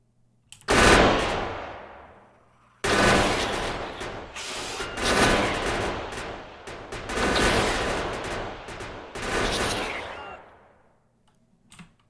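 Automated gun turrets in Factorio fire on biter nests in rapid bursts of machine-gun-like rattling, several loud sustained volleys separated by short pauses, with no talk.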